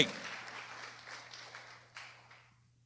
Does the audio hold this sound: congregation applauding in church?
yes